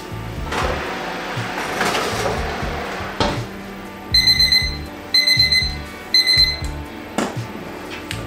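Three short bursts of shrill kitchen timer beeping ring out over clattering kitchen noise and handling sounds, loud and close.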